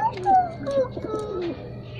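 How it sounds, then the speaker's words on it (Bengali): Two pigeons cooing close by, soft low coos and warbling calls over a couple of seconds with faint background noise. "এই যে এখানে দুইটা কবুতর,"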